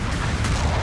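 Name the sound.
sniper shot in video game Gundam Battle Operation 2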